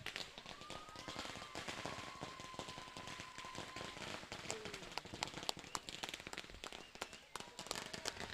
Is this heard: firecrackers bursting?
yes